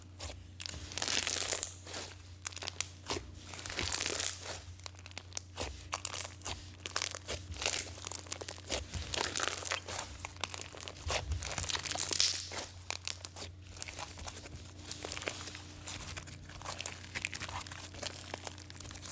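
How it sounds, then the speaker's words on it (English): Crunchy purple Halloween Floam clay slime packed with little foam balls gets squeezed and pressed up close, giving a dense, continuous run of crisp crackles, pops and crinkly snaps with no voices. "the little balls inside of the Floam really help create those air pockets for the perfect crispy, crunchy, poppy slime ASMR"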